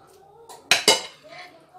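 A metal spoon scraping and clinking against a dish while scooping msemen filling, with two sharp clinks close together amid soft handling noise in a quiet kitchen.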